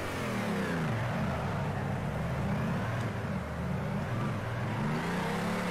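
Engine of a Nissan S15 in the Torque Drift video game, a continuous loud revving drone that rises and dips in pitch throughout, with no talking over it.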